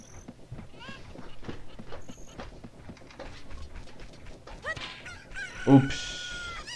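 A chicken in Zelda: Ocarina of Time clucks and squawks in short bursts over the game's sound effects and background music, ending in a louder cry.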